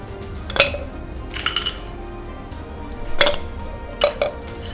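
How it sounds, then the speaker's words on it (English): Ice cubes clink and clatter into a cocktail shaker in a few separate bursts of sharp, bright knocks, close up, with quiet pauses between drops and no talking. "We're going to start by placing a couple ice cubes into our shaker."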